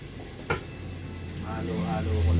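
Garlic and ginger frying in a pan for squid, with a sharp clank of a utensil early on and a soft, steady sizzle building under light stirring toward the end.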